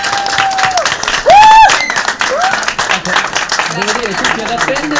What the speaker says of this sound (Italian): vorrei concludere con un applauso dei presenti